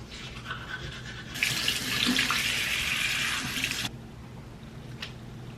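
Water gushes from a tap into a bath in a short, steady burst of splashing flow that starts abruptly, runs for a couple of seconds and cuts off, over a quiet room hum.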